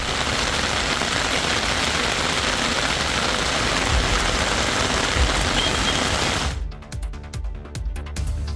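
Heavy rain pouring in Kodaikanal, a dense steady hiss of downpour that fills most of the stretch before cutting off abruptly near the end, loud and continuous.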